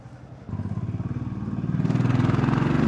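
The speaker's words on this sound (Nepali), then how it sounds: "चढे मेरो बाइकमा" Motorcycle riding on a mountain trail in Manang, Nepal, the engine droning steadily close by and building louder partway through as the bike gathers speed, with no talking over it.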